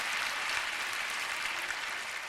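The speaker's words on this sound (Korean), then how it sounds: "이런 건 박수 한번 쳐주십시오." Sustained audience applause in a large hall, a dense, even wash of many hands clapping without a break and no voices on top.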